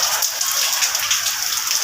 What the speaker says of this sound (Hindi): और बारिश तेज़ हो गई है